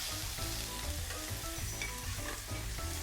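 Onion, garlic and shrimp sautéing in a pan for a seafood risotto, a steady close sizzle with intermittent stirring scrapes and clinks, no voices.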